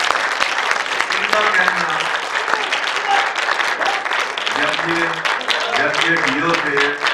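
Loud, sustained audience applause at a gathering of blind people honoring Shahzad Haroon Bhutta, dense clapping throughout with someone speaking over it.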